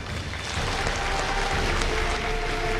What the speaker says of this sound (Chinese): 掌声请出这一对，来，掌声有请